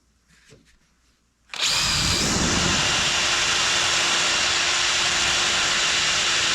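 A wire wheel on a power tool grinds against a hardened engine valve from a John Deere STX 38 mower, starting after a quiet moment and then holding a loud, steady high-pitched whir and scrape.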